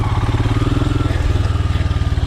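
Royal Enfield Himalayan 400cc single-cylinder motorcycle engine lugging at low revs off road, a steady deep rhythmic thumping pulse throughout, close and loud with no voices.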